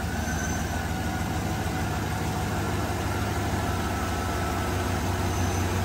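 A car engine idles during an alternator charging test, holding a steady, continuous droning hum with no talk.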